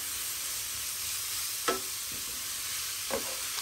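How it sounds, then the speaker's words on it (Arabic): Onions sizzle softly in a Moroccan tagine over low heat for a fish dish, a steady hiss broken by two brief scrapes of stirring. "مع التحراك دائما نبقاو نحركوه في البصله باش ما تلصقش لينا، والنار تكون مهيله"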